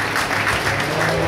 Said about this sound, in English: Let's give our judge one more round of applause.